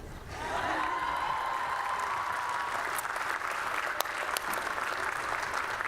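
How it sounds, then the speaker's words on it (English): Pharmacology and toxicology degree candidates at a 2019 spring commencement applaud and cheer, a broad, steady roar of clapping with a few sharp whoops and a brief whistle-like tone near the start. "Candidates may cheer and be seated."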